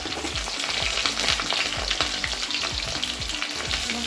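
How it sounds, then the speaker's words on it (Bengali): Potato pieces fry in hot oil with cumin for a bata fish curry, a loud continuous sizzle close up, with repeated soft knocks of a spatula stirring through the pan. "তো প্রথমে আমি আলুগুলো দিচ্ছি, আলুগুলো অল্প অল্প ফ্রাই হয়ে আসলে"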